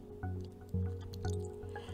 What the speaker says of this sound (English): I'm continuing blowing bubbles now